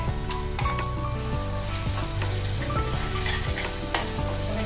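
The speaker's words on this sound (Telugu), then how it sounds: "ఇది కొంచెం ఫ్రై అయ్యే వరకు ఫ్రై చేసుకున్నాం 2 minutes" A paste of peanut, sesame, onion and tomato masala with chili powder, coriander powder and tamarind sizzles and fries in a pan for a brinjal curry, a steady close crackle broken by repeated scrapes and clinks of stirring, with no talk.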